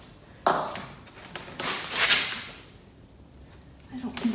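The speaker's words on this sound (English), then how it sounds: "I don't think I can get the door off of it" Someone tugging at a cabinet door gives a sharp knock, then a run of rattling thumps and clatter, close by, with a voice speaking around the noises.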